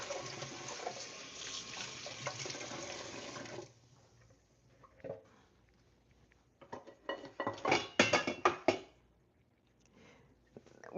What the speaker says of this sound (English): The only thing I have left to do is wash this pot